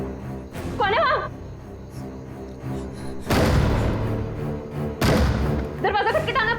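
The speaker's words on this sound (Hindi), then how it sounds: "दरवाजा खटखटाना बंद करो।" Heavy thuds pound on a door in two loud bursts, each a flurry of rapid banging, between stretches of tense background music. A voice calls out in the gaps.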